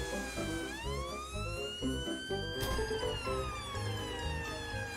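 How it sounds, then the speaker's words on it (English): An ambulance siren in a Peppa Pig cartoon wails with a rising and falling tone, steady and prominent over background music. "Peppa and Dr. Brown Bear quickly jump into the ambulance and drive off to the park."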